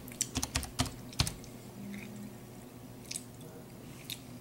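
Several quick clicks of keys typed on a computer keyboard, a short burst of taps near the start and a few scattered keystrokes later, close and fairly quiet over a faint background hum.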